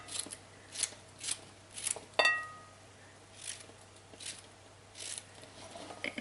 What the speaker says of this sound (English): Another zucchini. Zucchini's good. And slit up the middle. Slit up the middle. And cut it in pieces.